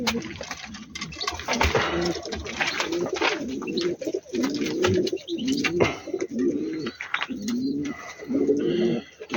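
Boz tumbler pigeons coo repeatedly at their coops, a close, steady run of soft rolling calls layered with bird chatter and a voice talking in the background.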